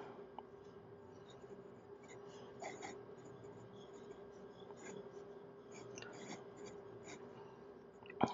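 A TWSBI Mikarta fountain pen scratches lightly across paper in short strokes while doodling, a faint, close, continuous scritching over a low hum, with no talking.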